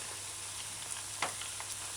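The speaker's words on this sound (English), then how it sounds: "it's deep frying, but I'm not using a lot of oil" Chicken deep frying in a shallow amount of oil gives a steady, quiet sizzle with a few soft pops and crackles standing out, and no voices are heard.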